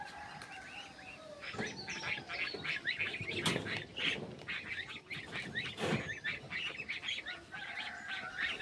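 Ducklings and geese at a village pond honk and chirp in a busy, overlapping chorus that rises and falls throughout, fairly close and moderately loud, with no one speaking.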